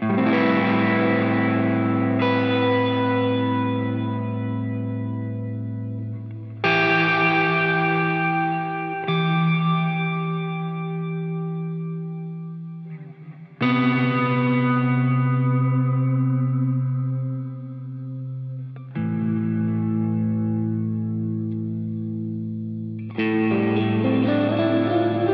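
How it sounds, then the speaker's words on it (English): Guitar chords played through the stock Glitz reverb on a Line 6 POD GO, each strum ringing out in a loud, lush, shimmering ambient wash that swells and decays before the next chord, with no talking. "we have reverb number 3, which is the Glitz, and this is the one that I often use when I want to create an ambient sound"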